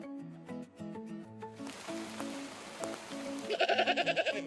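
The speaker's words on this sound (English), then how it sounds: "Goddamn goat" A goat bleats in a quick wavering burst near the end, following a stretch of plucky melodic tones and scattered clicks.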